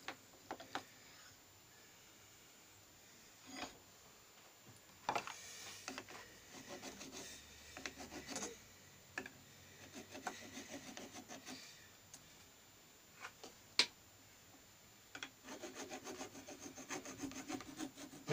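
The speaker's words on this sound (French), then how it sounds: "On va encore essayer de limer." A metal file rasps back and forth across the fine, fragile tube of an original Motobécane Motoconfort shock absorber, producing faint, irregular scraping strokes in short bursts with pauses between them, and no voices.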